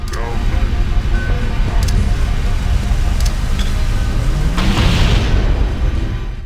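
Grenade explosions in Halo CE go off in quick succession as the player grenade-jumps up toward a second floor, several loud booms over constant game noise, with a voice talking throughout.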